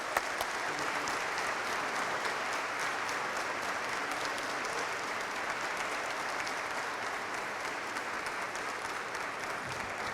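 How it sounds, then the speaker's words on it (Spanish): An audience at a lecture claps for the speaker, a dense, steady wash of applause sustained at even loudness for about ten seconds without pause. "Un fuerte aplauso de nuevo para el doctor."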